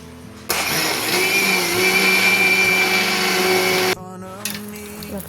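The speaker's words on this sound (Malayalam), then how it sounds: "ഇനി അരി മിക്സിയിലിട്ട് നമുക്ക് അരച്ചെടുക്കാം." Electric mixer grinder grinding rice for Kerala palappam batter, a loud steady whine with a faint whirring hum that starts abruptly, runs for about three and a half seconds and then cuts off, leaving quieter kitchen noise.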